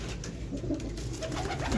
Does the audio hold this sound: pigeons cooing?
yes